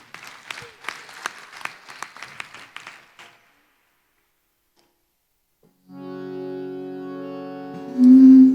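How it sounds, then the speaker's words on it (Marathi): Audience applause for a musical troupe at a staged Marathi devotional show in Nagpur, a burst of clapping lasting about three seconds, then a pause before sustained instrumental music and a loud tone begin. "जोरदार टाळ्या वाजवून द्या"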